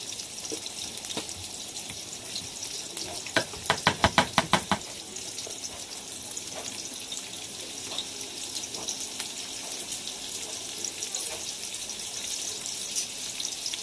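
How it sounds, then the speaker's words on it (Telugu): Onions sizzling in hot oil for a village-style chicken biryani, a steady close hiss with a short burst of rapid clicking knocks partway through, no talking. "ఫస్ట్ ఆనియన్ అయితే వేస్తానండి ఆయిల్లో"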